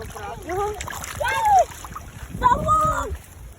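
A small crucian carp is tossed back into the water after being caught, making brief light splashes amid children's excited voices outdoors.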